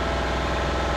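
A sailing yacht's engine runs offshore while the boat clears harbour before setting sail, a steady droning hum with a low throbbing pulse, constant and close throughout with no voices.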